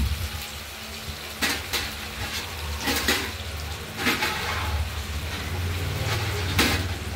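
Water poured into a pan of kofta curry that has been sautéed until the oil separates, giving a continuous rushing, bubbling wash with a few brief louder splashes, close and without speech.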